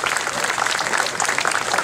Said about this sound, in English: Give him an applause for helping out and doing his work.